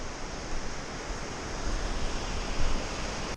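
A fierce mountain river in Poland rushing past, a steady broad roar of churning water heard up close with slight swells in loudness.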